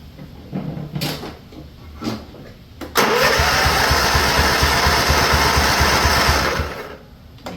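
Scotts riding mower engine turns over in a few short bursts, then catches and runs loudly for several seconds before dying away, close and alone.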